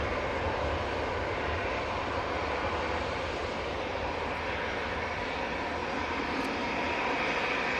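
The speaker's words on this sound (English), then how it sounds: "there's one taken off, EasyJet taken off now" An easyJet airliner taking off, its engines a steady broadband roar that holds at a constant, fairly distant level throughout, with no voices.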